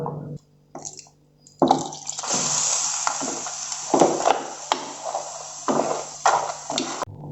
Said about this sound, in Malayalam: ഇത് കുറച്ച് കട്ടിയിട്ട് നമുക്ക് കുറച്ചുകൂടെ വെള്ളം ഒഴിച്ചു കൊടുക്കാം.